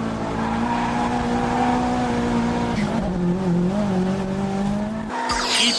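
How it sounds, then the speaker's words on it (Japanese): Drift car held at full throttle on a mountain pass in a Japanese drift battle, engine droning loud and steady at high revs with tire squeal and skidding throughout, a brief shift in pitch near the end. "すげえ、アクセル床までベタ踏みで流しまくってる。"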